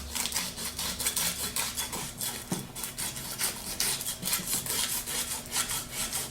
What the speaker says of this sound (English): just clean everything up a little bit with a piece of sandpaper